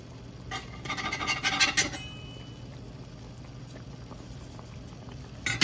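Homemade bagels boil in a pot of water, a soft bubbling simmer with a brief burst of splashing and liquid patter as one is lifted out, then quieter bubbling and a final splash.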